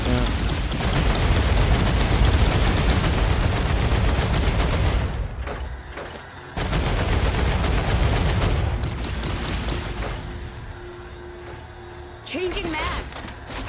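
Dense, sustained automatic gunfire from the Star Rupture video game, rattling loud and continuous for several seconds, breaking off briefly during a reload before resuming; a short electronic tone rises near the end.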